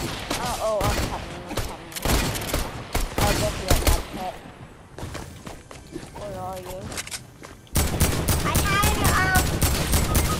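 Rapid bursts of gunfire from the video game Fortnite rattle through the clip alongside quick footsteps. Excited voices talk over the shooting, which grows denser and louder near the end.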